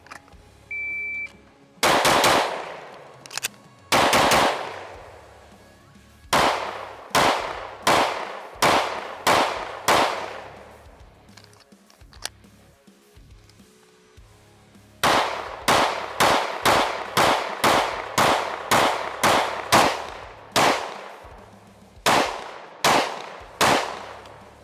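A Sig P320 AXG Legion pistol with a ported slide fires at the range, with sharp, loud shots in quick strings separated by brief pauses, each crack ringing out close by.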